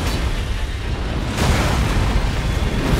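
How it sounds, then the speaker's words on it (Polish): Ground erupting in explosions during an Elden Ring: Shadow of the Erdtree boss fight, a dense, sustained rumbling roar that swells louder partway through, with no talking. "w drugiej fazie jest to samo, tylko że jeszcze ziemia wybucha później."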